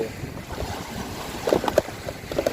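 A boat crossing the water from the shore at a Rayong coastal fishing spot, its steady low engine drone mixed with wind buffeting and wave wash, with a few sharper knocks and splashes near the end.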